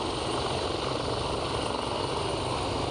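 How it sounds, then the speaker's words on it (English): A helicopter flies inbound near Aberdeen airport, its steady rotor and engine roar filling the whole moment at close, even loudness with no talking. "Another chopper inbound, getting busy."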